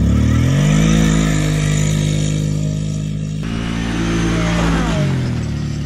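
A motorcycle engine drag racing nearby roars loud and steady as it accelerates, then drops sharply after a gear shift and keeps pulling hard through the rest of the run.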